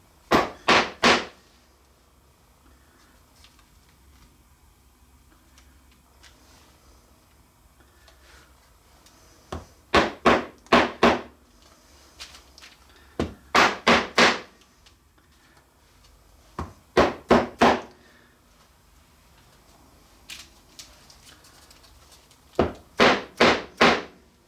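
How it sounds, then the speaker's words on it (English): A dead blow mallet raps the wooden end blocks of a ukulele being built, in quick bursts of three or four crisp, close taps separated by pauses, six groups in all against a quiet workshop background. "just get a dead blow mallet or something to that effect and give a wrap on each one of these end blocks to set that nail"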